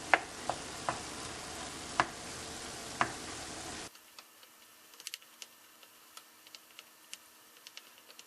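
A wooden spoon knocks and scrapes against a pan of cooking shrimp, sparse sharp taps over a soft sizzle, first louder and then fainter with scattered light clicks.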